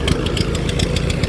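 A farm engine runs on choke after starting, a close, loud, rough idle with rapid regular firing pulses throughout the short stretch.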